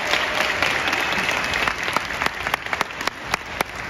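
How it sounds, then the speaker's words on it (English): Audience applause at a university honor band festival, a dense sustained patter of many hands near the microphone, thinning toward the end into scattered individual claps. "he's getting a lot of applause"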